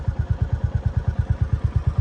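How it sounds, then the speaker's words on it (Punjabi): A motorcycle engine thumps in a fast, regular pulse on a mountain road, close and fairly loud, with no talking over it. "ਆਪਾਂ ਇੱਥੇ ਆ ਖੜਾ ਮੋਟਰਸਾਈਕਲ ਤੇ ਚੱਲਦੇ ਆ ਅੱਗੇ ਫਿਰ"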